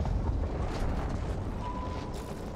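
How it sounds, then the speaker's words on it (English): A big explosion in the video game The Ascent rumbles as a loud, dense low roar that holds steady across the whole stretch, close and heavy, with no voices over it. "Oh, the big explosion's back."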